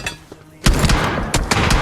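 Loud, sharp gunshots crack in rapid succession after a quiet start in PUBG Mobile, a dense burst of close gunfire with a few distinct reports standing out.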